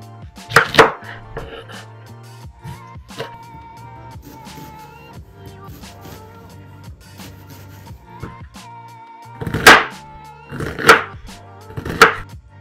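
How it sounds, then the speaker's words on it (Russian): Sharp knife strikes chopping an onion on a cutting board, a few scattered chops followed by a quicker burst near the end, with a faint steady hum behind. "Сейчас мы с вами берем лук и мелко его режем"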